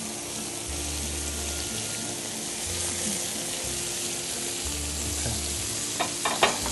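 Tomato sauce sizzles and fries in a hot pan in a restaurant kitchen, a steady close crackling hiss throughout with a few brief clinks and knocks near the end.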